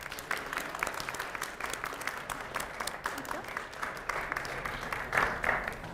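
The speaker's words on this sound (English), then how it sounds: "One last round of applause for our two candidates before the election" A student audience claps for two candidates at the close of an election debate during a university Grand Marshal Week event, a moderate, steady wash of applause with some crowd murmur and voices mixed underneath.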